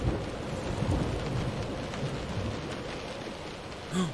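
Steady rain patters with a low rumble of thunder underneath in the video game Close to the Sun, fairly quiet and continuous, with a brief soft swell near the end.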